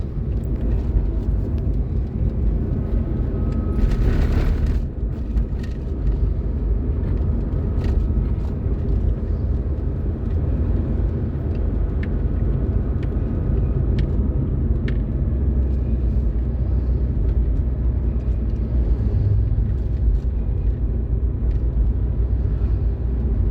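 A manual car's engine roars steadily while being driven in traffic during a driving lesson, a loud, continuous low rumble that holds without break from start to finish, with no talking.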